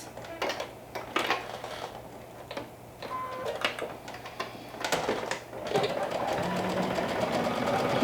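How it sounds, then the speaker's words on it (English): A sewing machine stitches a dress seam with a half-inch allowance, running in short bursts of rapid mechanical whirring and clatter, then settling into a longer continuous run near the end, fairly close but soft. "Let's go ahead and stitch all around with a 1/2 inch seam allowance."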